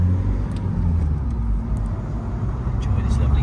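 A 2011 Mini Cooper D convertible drives along a road with the roof down, giving a steady low engine and road rumble mixed with wind buffeting, fairly loud and constant.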